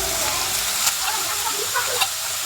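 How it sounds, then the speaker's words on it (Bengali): Chopped carrots and beans sizzle in a frying pan for a poha dish. The hiss is close and steady, broken by a few sharp clicks and scrapes as the vegetables go in and get stirred. "এখন দেব এটাতে কেটে রাখা গাজর, আর সাথে দিয়ে দেব কেটে রাখা বিন।"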